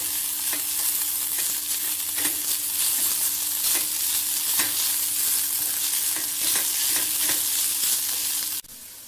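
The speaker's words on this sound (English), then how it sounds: "Now we are adding the ginger paste, the garlic paste, and will be sauteing it well." Onion with ginger and garlic paste sautéing in a pan for chicken biryani, a steady close sizzle with regular clinks of a spoon against the pan, no talking, ending with a sudden change near the close.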